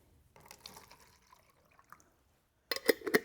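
Water poured from a jar into a separate container, heard as a soft trickle early on and then a louder, splashy burst of filling near the end, close by and with no voices.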